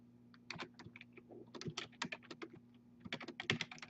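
Rapid computer keyboard typing while entering HTML form input code, quick close key clicks in dense runs with short pauses, no speech.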